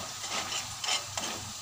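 Banana chips frying in hot oil, a steady busy sizzle and crackle with a few louder bubbling pops, close up with no talk.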